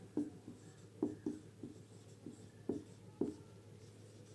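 Pen strokes on paper during a Hindi-medium physics lesson, a series of soft scratchy taps and short scribbles in irregular bursts, close and quiet over a low steady hum, with no talking.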